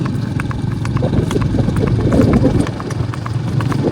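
Rhythmic clip-clop of a mare's hooves trotting close by, pulling a cart, steady beats over a low engine-like rumble and faint voices.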